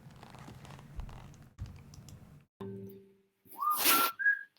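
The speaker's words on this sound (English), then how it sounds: "were you gonna give us a little whistle?" A person on a video chat lets out a short, clear whistle near the end, a couple of bright rising notes following a stretch of soft tapping and clattering.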